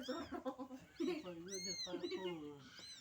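A cat meows repeatedly at a family meal, several drawn-out, rising and falling cries close by, with people talking around it.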